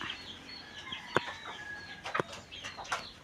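Wet chickens cluck softly in short, scattered calls, fairly faint against a hissing background, with a couple of sharper clucks standing out.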